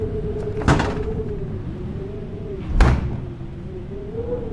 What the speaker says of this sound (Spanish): entré en la caseta, cerrando la puerta de un portazo